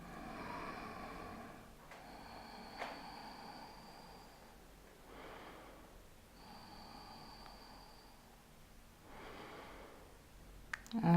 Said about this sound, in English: Just take a few breaths here.